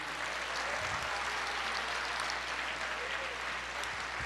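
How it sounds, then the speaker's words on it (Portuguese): A church congregation applauds during a sermon, a steady, distant-sounding wash of clapping under a low hum that continues evenly throughout. "Você pode aplaudir o Senhor e dizer,"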